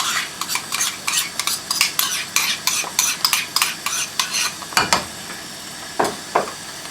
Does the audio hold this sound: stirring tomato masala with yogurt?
yes